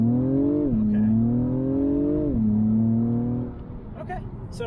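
A 2021 Acura TLX Type S launches hard in Sport Plus mode, engine revving up and climbing through a couple of gear changes with a rising, close exhaust note before easing off.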